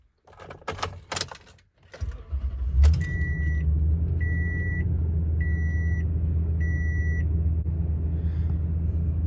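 A 9-year-old truck engine cranks and catches after some key jangling, then settles into a steady, loud, low idle rumble, with four evenly spaced electronic warning chimes ringing over it.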